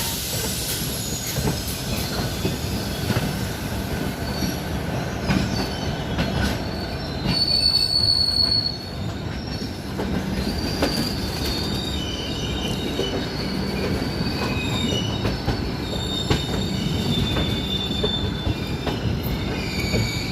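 A Telangana Express passenger train rolls along the rails on its way to Hyderabad, with a continuous rumbling of wheels, metallic squeals and a brief louder stretch midway, heard from inside the coach with no talk.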